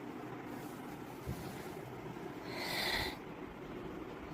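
Wind picks up outdoors ahead of expected rain: a steady, fairly faint rushing noise that swells into a stronger gust midway, with no talking.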